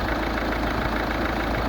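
A Citroën Xsara Picasso's 1.6 HDI 110 hp diesel engine idles with a steady, close-up clattering rumble, a constant low knock with no talking.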